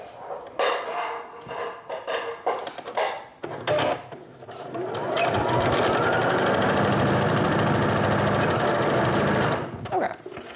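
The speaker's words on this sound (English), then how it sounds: "Sew this together real quick." A sewing machine stitches a skirt seam with right sides together, starting after a few short clicks and taps, then running as a loud continuous rapid whirring chatter for about five seconds before stopping.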